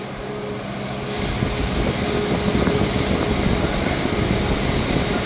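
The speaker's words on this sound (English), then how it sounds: "Departing out now is the 12:39 Scotrail service starting here at Dundee to Edinburgh Waverley." ScotRail service pulling out of Dundee station toward Edinburgh Waverley, a steady engine drone that swells after the first second and holds as a continuous rumble.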